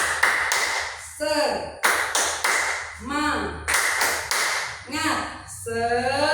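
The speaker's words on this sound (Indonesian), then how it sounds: "Diulang lagi, coba tepuk semangat, semangat." A small group does a rhythmic spirit clap in a classroom, sharp claps in repeated patterned bursts, each phrase answered by a chanted shout, loud and close.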